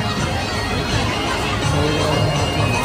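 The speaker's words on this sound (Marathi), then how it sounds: "किती गर्दी आहे बघा." Crowd bustle and overlapping chatter at a busy food market with stalls selling veg manchurian and Chinese bhel, a steady dense hubbub filling the whole stretch with no single voice standing out.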